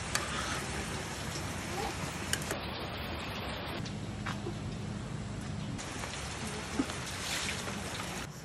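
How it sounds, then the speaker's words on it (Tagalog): Rain falls steadily on a farm, a soft, even hiss with scattered ticking drips throughout, fairly quiet and with no one speaking. "grabe, hindi tumitigil yung ulan"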